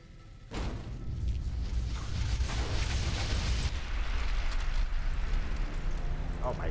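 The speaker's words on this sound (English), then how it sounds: "Okay, let's try a grenade." Grenade blast in Fallout New Vegas: a sudden broadband boom about half a second in, followed by a long, loud rumbling roar that slowly tails off, with a voice speaking faintly over the aftermath.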